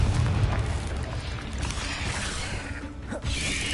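A Confringo blasting spell goes off in Hogwarts Legacy on PS5, a dense low rumbling boom that holds steady for several seconds amid busy mechanical game noise.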